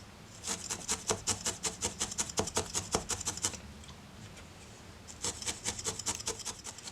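A felting needle stabs rapidly into wool while shaping the wing and neck of a needle-felted chick, a quick run of close, even scratchy jabs that pauses briefly and then resumes.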